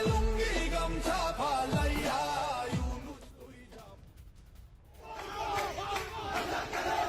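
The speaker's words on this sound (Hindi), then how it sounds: "शेख हसीना के समर्थकों का हिंसक प्रदर्शन" A violent street protest by Sheikh Hasina supporters in Bangladesh, with a dense roaring crowd shouting and chanting loudly, easing briefly midway before the uproar surges back.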